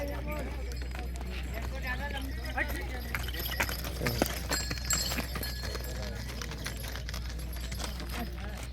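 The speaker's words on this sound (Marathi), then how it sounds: "त्याच्यानंतर ही एक बैलजोडी मित्रांनो" Hooves of a pair of bullocks clop on the ground at a busy cattle market, a steady run of light, scattered knocks under continuous crowd chatter and nearby talk.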